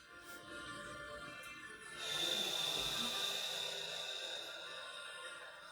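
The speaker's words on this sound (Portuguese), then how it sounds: "Inspira." A slow, deep breath drawn in during a guided relaxation session, a soft, breathy hiss rising about two seconds in and lasting several seconds, quiet and close.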